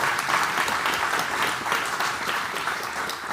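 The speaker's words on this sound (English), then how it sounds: "I'll let everybody applaud." An audience claps steadily and loudly in a hall, a dense continuous patter of many hands with no pause.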